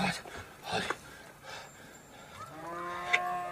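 A cow moos a few times at moderate distance, low drawn-out calls followed by a longer tonal bellow near the end.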